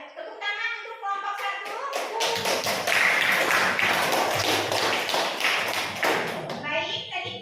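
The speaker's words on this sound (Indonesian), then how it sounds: "tepuk tangan untuk kelompok" Classroom applause for a presenting student group, a burst of many hands clapping loudly for several seconds, with a teacher's voice talking before and after and children's voices mixed in.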